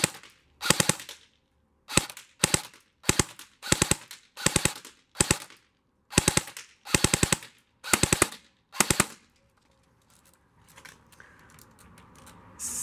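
A Lancer Tactical CQB airsoft rifle fires BBs in a series of about a dozen short, sharp bursts of rapid mechanical clacks with brief pauses between them, close and crisp, followed by quieter rustling.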